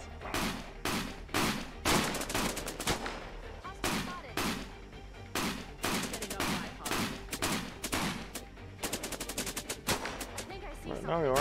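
Rapid bursts of automatic gunfire in the video game Cepheus Protocol, repeated volleys with short pauses between them over about eleven seconds, with a player's voice talking in between.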